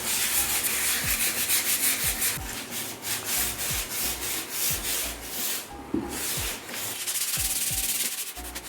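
Sandpaper is rubbed by hand across a refinished old wooden table top in steady back-and-forth strokes, close and continuous with no voices.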